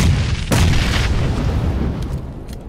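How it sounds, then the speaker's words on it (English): A grenade explodes in the battle royale game PUBG, a loud, sharp boom about half a second in, followed by a rumbling, decaying tail and faint rattling effects. "Oh, you gonna throw me a grenade?"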